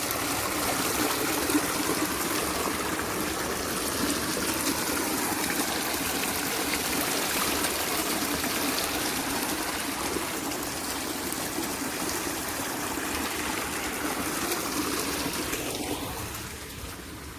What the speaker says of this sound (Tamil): இந்த தண்ணி 2-3 பக்கம் ஊற்றுன்னு சொல்லியிருந்தாங்களா, இங்கே ஒரு பக்கம் ஊற்றுதுங்க